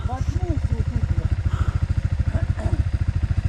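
A motorcycle engine runs with a steady rapid low pulsing throughout, close and prominent, after the bike was submerged to the handlebars in a stream; a faint voice sounds briefly over the engine.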